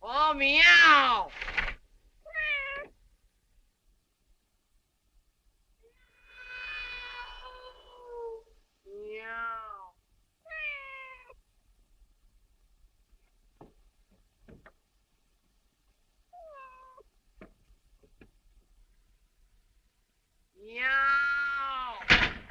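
A human voice imitating a cat's meow repeats several times, loud meows at the start and end with softer ones and a few faint taps in between, all close and separated by quiet gaps.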